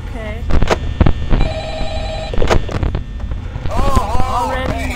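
A telephone rings inside the Five Nights at Freddy's video game, a steady electronic ring under loud game noise, with someone talking over it.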